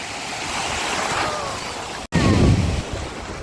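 Wind-whipped waves on the Irish Sea at Cahore Point rush and break close by, a steady surf roar that cuts out for an instant and then returns louder.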